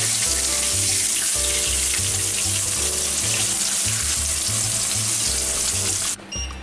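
Mackerel frying in a pan gives a loud, continuous close sizzle and crackle, with a low rhythmic hum underneath, easing off slightly at the very end.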